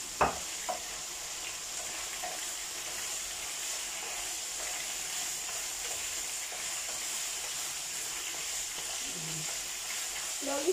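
Carrots stirred in a hot pan, a steady close frying sizzle and hiss with occasional soft scrapes and clinks of the utensil.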